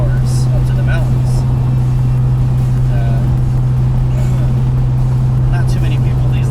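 A Dodge Viper's engine drones in a low, steady hum from inside the car while driving, with a person talking over it throughout; no distinct gear change stands out.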